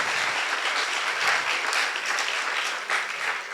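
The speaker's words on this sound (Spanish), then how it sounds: "le pido un aplauso de ustedes para ustedes y del público" An audience at a Dominican education event gives students a dense round of applause, a steady wash of many hands clapping at moderate volume for a few seconds.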